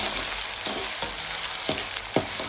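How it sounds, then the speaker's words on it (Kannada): Chopped onions with a teaspoon of salt sizzle steadily in a hot oil pan while a spoon stirs them, scraping the pan in several short strokes over the constant close frying hiss. "ಸ್ವಲ್ಪ ಉಪ್ಪು ಹಾಕ್ಕೊಂಡು ಚೆನ್ನಾಗಿ ತಿರುಗಿಸ್ಕೊಂಡ್ಬಿಡಿ"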